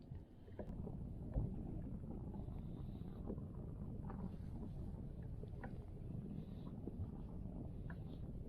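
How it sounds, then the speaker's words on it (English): Wind rushes steadily across a lake around a fishing kayak, a constant low buffeting roar with faint water sloshing against the hull, close and continuous with no talk. "The wind's picked up a little bit now."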